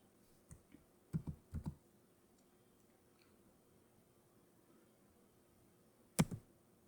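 A few light keystrokes on a computer keyboard while entering Vim commands: a single tap, a quick cluster of three or four clicks, a long pause, then a final pair of presses, close and fairly quiet.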